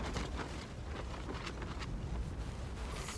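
Strong wind gusting and buffeting a tent at a mountain camp in the Coquihalla region, a steady, loud rushing roar with low rumbling flaps throughout.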